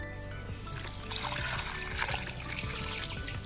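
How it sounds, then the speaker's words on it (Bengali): Water trickling and splashing onto leafy vegetable plants in a home garden, a steady close stream of pouring with no talk. "শাকের গাছগুলোতে একটু জল দিয়ে দিলাম"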